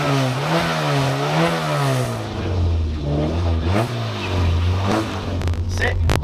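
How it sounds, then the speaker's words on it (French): A rally car engine at a vintage car and motorcycle show revs up and down in repeated swells, rising and falling in pitch before settling into a rougher idle, loud and close from inside the car. "On entend bien le moteur, hein?"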